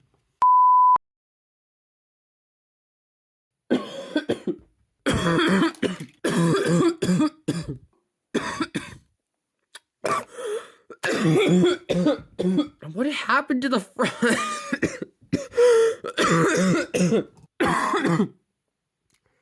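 Repeated harsh coughs and throat clearing come in bursts close by, preceded by a short electronic beep, with a brief spoken phrase among them.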